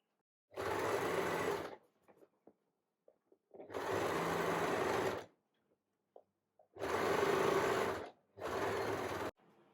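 A sewing machine stitches a fabric storage basket in four bursts of fast whirring, each lasting one to two seconds and separated by short pauses with faint handling clicks, nearby and without talk.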